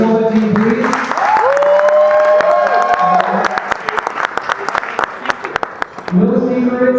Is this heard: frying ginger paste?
no